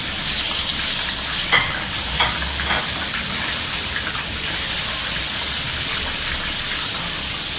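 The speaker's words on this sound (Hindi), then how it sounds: "मैं इसमें ये सारे स्पाइसेस डालूंगी, धनिया पाउडर, ज़ीरा, नमक, हल्दी, और इसे एक बार स्टर कर लेती हूँ" Spices such as coriander powder, cumin, salt and turmeric sizzle and fry in a pan for ridge gourd keema while being stirred. A loud, steady hiss runs throughout, with a few soft scrapes near the start.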